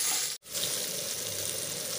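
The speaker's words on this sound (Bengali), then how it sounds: "পটলটা আমার প্রায় সেদ্ধ হয়ে গেছে এবং লাল লাল করে ভাজাও হয়ে গেছে" Pointed gourd (potol) sizzles steadily in a pan with salt and turmeric, a continuous close frying hiss broken by a brief pause.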